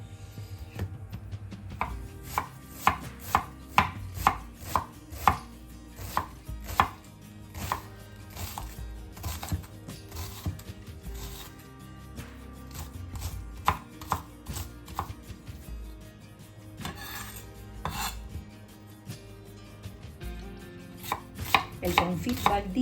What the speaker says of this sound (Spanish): La cortamos bien finita.